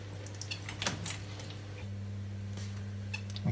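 An old household water pump runs with a steady low electrical hum that deepens and gains a second tone partway through, after a few light clinks and rattles, with no talking.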